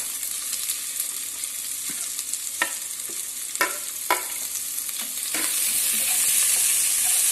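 Onions sizzling in a hot pan, stirred with several distinct scraping strokes over a steady frying hiss that swells louder near the end.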